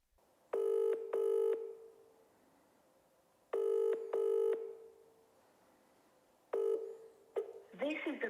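A telephone number is dialled in three separate bursts of keypad tones, each burst a couple of quick beeps, with quiet pauses between; a voice starts talking right at the end.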